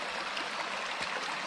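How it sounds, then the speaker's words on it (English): Creek water rushes steadily through a stone tunnel as a continuous, close hiss of flowing water, alone with no voices. "This creek feeds down from there and comes down through this tunnel and then connects into the Roaring Brook."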